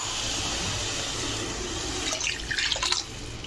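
Water pours into a pan for rasam on the stove, a steady broadband stream with splashing that grows busier toward the end, heard alone without talk.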